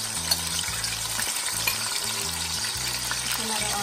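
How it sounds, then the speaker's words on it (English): Seasoning frying in oil for dahl and rice with cook-up salt fish, a steady close sizzle and crackle with faint stirring clinks, with no talking. "We're gonna fry up the seasoning first."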